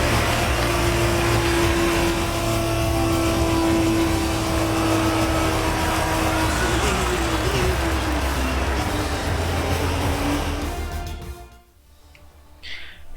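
A Formula 1 race car in the F1 2020 game at Monza holds a loud, steady engine drone with a sustained tonal whine, then cuts off abruptly near the end, leaving a quieter tail.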